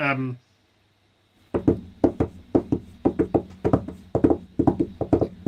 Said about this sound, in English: You hear a horse approaching, and then like a neigh